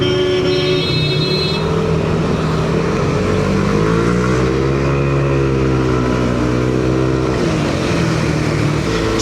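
Yamaha Aerox V3 scooter fitted with a 4S1M Street Core exhaust pipe, a steady close engine note idling and rising in a couple of smooth revs before settling again, with no talk.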